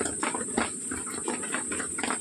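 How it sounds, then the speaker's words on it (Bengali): Whole garam masala spices sizzle in hot oil in a wok while making khichuri, a steady close hiss with faint crackling pops and no talk. "গোটা গরম মশলা আমি দিয়ে দিচ্ছি"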